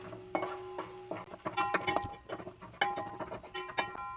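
A spoon clinks and scrapes against a pan while grated coconut is stirred and roasted in ghee for ladoo, giving irregular light taps and scraping close by with no talk.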